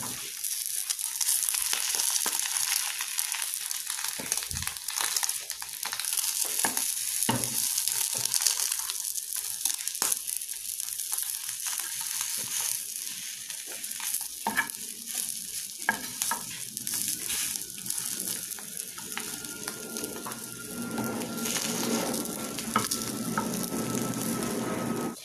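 Bacon-wrapped rolls fry in a pan with a steady sizzle, punctuated by scraping and knocking as they are stirred and turned, close and continuous throughout.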